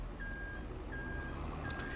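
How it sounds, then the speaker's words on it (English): A dump truck in the Farming Simulator 25 video game sounds a steady repeating reversing beep, a long tone about every 0.7 seconds over a constant low engine rumble, with no voices. "we bought the dump truck, so I might as well use it"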